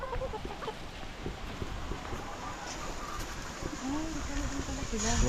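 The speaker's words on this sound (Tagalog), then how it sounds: "Yan, yung mga inahin yan." Farmyard hens cluck softly and intermittently among other poultry at a provincial farm, low and steady under constant background noise.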